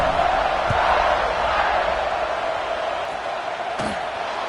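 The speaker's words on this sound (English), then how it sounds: "this crowd is buzzing after that last score" Stadium crowd buzzing steadily at a college football game in the College Football 26 video game, a continuous broad roar with a couple of faint thuds, right after a score.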